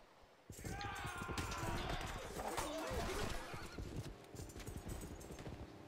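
Horse units in the Civilization 5 strategy game, with steady hoof clip-clop and a loud whinny sounding throughout, close and continuous over other game audio.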